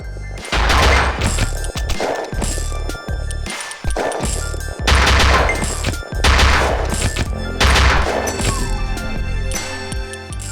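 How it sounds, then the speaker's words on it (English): Rapid bursts of sniper gunfire ring out in the video game Luckslinger, loud cracks repeating in clusters over game music and effects. "there's a sniper guy trying to nick you with one of his bullets"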